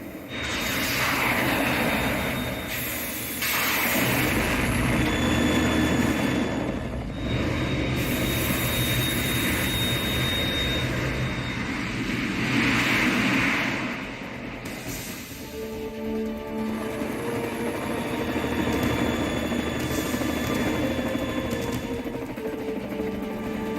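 A Harrier jet's engine roaring in Metal Gear Solid 2, a dense, continuous rumbling thrust that swells and dips over about twenty seconds, layered with whooshing passes and game noise.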